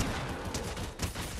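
Rapid SMG fire crackles in a Fortnite match, a dense burst of sharp shots rattling in quick succession, loud and close, with a second flurry just after the first.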